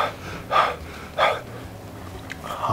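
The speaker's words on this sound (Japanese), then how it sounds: "はぁはぁ言うてる。" Heavy, rasping breaths come close to the microphone, three loud exhalations spaced roughly half a second apart over quiet background, with no talk.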